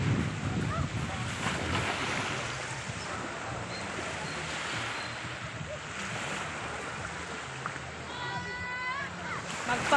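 Seashore ambience at a beach, with continuous wind and rolling surf washing in a broad steady hiss, moderately loud throughout, while people talk faintly in the background.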